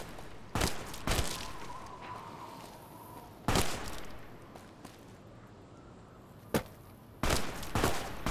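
Enemy gunfire in Fallout New Vegas Lonesome Road: sharp, loud shots arriving in short bursts of one or two cracks separated by quieter gaps, with a faint tonal whine between volleys.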